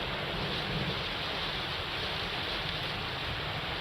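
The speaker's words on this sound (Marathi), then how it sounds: "नाशिकमध्ये मुसळधार पाऊस पडतोय" Heavy monsoon rain in Nashik pours down in a dense, steady roar with no breaks, filling the whole moment.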